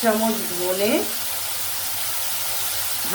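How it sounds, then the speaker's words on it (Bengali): Tomatoes with spices fry and get stirred in a pan, a continuous hissing sizzle held steady throughout, with a voice speaking briefly at the start and again at the very end. "টমেটো দেওয়ার পরে আমি এটা একসাথে টমেটোর সঙ্গে মিক্স করে নিচ্ছি।"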